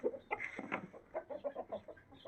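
A hen clucks in a quick, irregular series of short calls, fairly close and moderately loud, with no talk over it.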